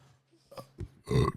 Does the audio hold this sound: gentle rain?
no